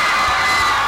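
A crowd cheers and shouts in celebration after Brazil's World Cup win over Cameroon in 2014, a loud dense roar of voices with whoops, steady throughout the short burst.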